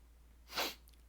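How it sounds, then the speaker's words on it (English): A single sudden sneeze bursts out of near silence, short and sharp, with a quiet hush before and after. "Except for that one sneeze out of nowhere"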